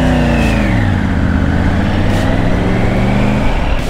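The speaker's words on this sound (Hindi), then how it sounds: "पांच छह गाड़ियां आ रही हैं" Vehicle engines rumble loudly and steadily on a mountain road near Kufri, with a rising, revving pitch as cars pass close by.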